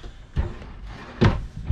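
Two bumps of a drawer or cabinet in a travel trailer kitchen being opened and shut, fairly close and moderately loud, separated by quiet room tone.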